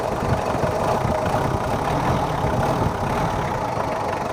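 Close and loud, a Mitsubishi Kuda diesel engine runs at a steady idle with a dense, rough, continuous rumble and no clear revving, with no talk.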